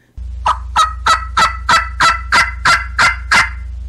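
A wild turkey yelps in a steady series of about ten evenly spaced, loud, close calls over a constant low hum.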